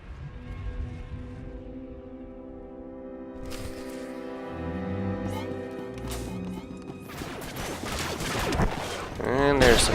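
Turret gunfire and crashing impacts in a Star Wars game, a sustained tone with music giving way to a burst of rapid shots and smashing noise that grows louder toward the end.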